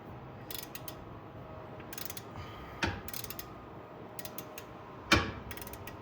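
A ratchet wrench loosens a bolt during an oil change on an Acura MDX, with a few bursts of rapid clicking separated by pauses and a couple of sharper metallic knocks, close and fairly quiet with no talk.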